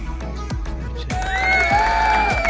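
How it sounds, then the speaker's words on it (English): Cheering crowd noise outside a studio swells midway into a loud, sustained roar with whistles and shouts over rhythmic thumping in the background. "My crowd outside the studio."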